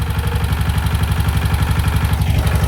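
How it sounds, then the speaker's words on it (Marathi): A Yuvraj single-cylinder farm tractor engine runs at idle with a steady, fast low thumping beat and light mechanical clatter, close and loud throughout, with no voices. "सकाळ सकाळ ट्रॅक्टर चालू करायला उतरून आणलाय."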